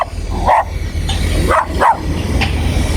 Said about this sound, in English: I've got dog attacking me here.